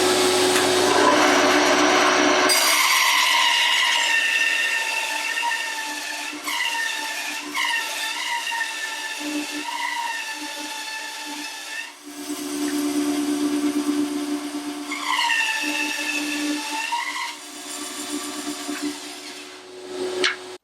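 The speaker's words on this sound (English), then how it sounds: "So I've got a bit of 4x2, and we're going to cut this in half" An Axminster Craft AC1950B bandsaw cuts a length of pine 4x2 in half: a loud steady whine runs alone, then the blade bites with rising, wavering rasps and the motor pitch sags and recovers through the cut.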